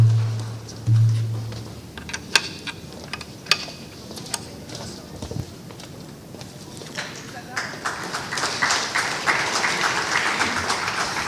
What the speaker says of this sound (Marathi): आणि जोरदार टाळ्यांचा कडकडाट होऊ देत.